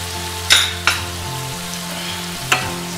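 Garam masala, red chili powder, coriander powder, turmeric and salt fry in a pan for paneer makhanwala. A low steady sizzle runs under three sharp scraping stirs, close and fairly loud, with no talking.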